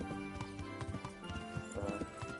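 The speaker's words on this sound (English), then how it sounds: "I'll try to ride my horse over there" Horse hooves clip-clopping at a steady run in Kingdom Come: Deliverance, a rhythmic stream of close thuds over a constant backdrop of game music and ambience.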